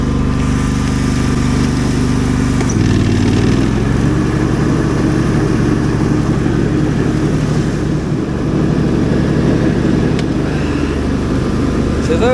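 A Husqvarna lawn mower with its deck lowered runs loud and steady throughout, its engine drone shifting pitch a few seconds in as the blades start cutting grass, with some wind-like noise over it.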